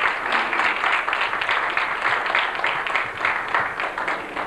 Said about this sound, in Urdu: جناب رحیم انجان صاحب کے لیے بھرپور تالیوں میں۔